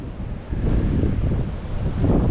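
Gusty wind buffets the microphone on the harbor at Bar Harbor, Maine, a loud, low rushing roar that swells and eases in waves, with no talk over it.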